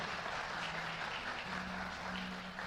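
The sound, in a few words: congregation applauding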